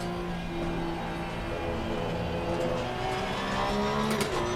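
Race car engine in Assetto Corsa Competizione, held in second gear while accelerating: a loud, continuous close-up engine roar that rises steadily in pitch, with faint tire scrub near the end and no talking.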